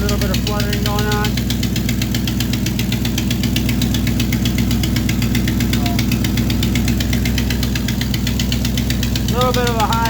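A 1985 Chevrolet K20 truck engine idling high with a slight flutter, a steady loud rumble running throughout with brief bird chirps faintly in the background.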